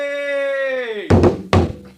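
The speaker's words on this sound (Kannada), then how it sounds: "ಡಂಗುರ ಸಾರಲು ಹೇಳಿರಿ" A dangura drum beaten for a village public announcement lands two heavy, booming thumps about half a second apart, right after a long, drawn-out voice call that slides downward.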